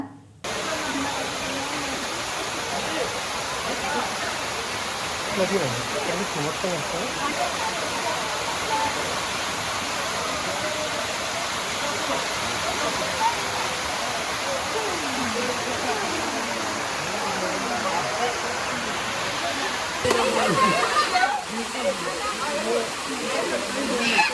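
Waterfall at Maredumilli in a forest setting, a steady broadband rush of falling water that stays loud and constant throughout, with a brief shift in tone near the end.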